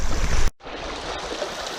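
Fast-flowing creek water on the Tallapoosa River rushes steadily in a broadband wash, briefly cut off near the start and then continuing alone without talk.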